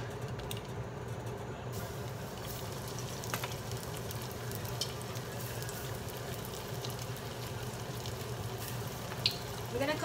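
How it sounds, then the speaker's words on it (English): Pieces of chicken fry in hot vegetable oil for Korean fried chicken, giving a steady close sizzle and crackle with faint bubbling and occasional small clicks of stirring. "So now we're gonna start frying the chicken."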